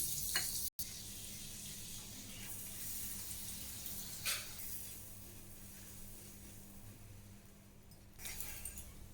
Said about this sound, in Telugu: టవ కూడా వేడెక్కింది మనం ఇప్పుడు బటర్ వేస్తున్నామండి